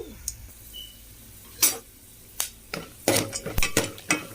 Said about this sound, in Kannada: ಇದೆಲ್ಲ ಸ್ವಲ್ಪ ಫ್ರೈ ಆಗೋ ತಕ್ಕ ನಾವು ಹುರ್ಕೋಬೇಕು